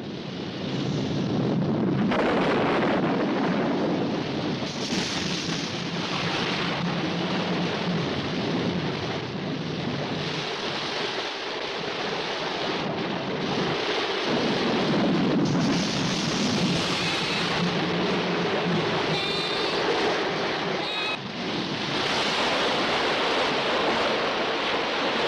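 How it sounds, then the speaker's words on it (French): Heavy rainstorm pouring steadily with gusting wind and rumbles of thunder, a dense, loud, continuous roar with no voices. "On ne voit rien avec une pluie pareille."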